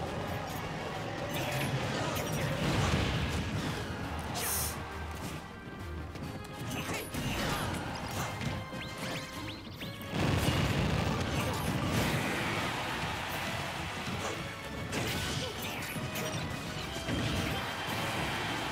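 Bombs going off during a Super Smash Bros. Ultimate match, loud crashing blasts and smacks piled over busy game noise, with a sharp burst of impacts about halfway through.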